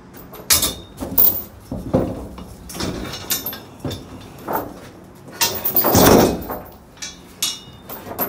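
A trailer door on a vac trailer bangs and scrapes open and shut through a series of close, sharp knocks and thuds, with rattling metal in between.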